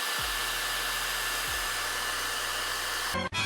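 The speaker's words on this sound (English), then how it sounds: "Let's see if we can remove that with just a hair dryer." A hair dryer roars steadily at close range, aimed at a Yeezy slide, its motor pitch briefly shifting twice before it is switched off.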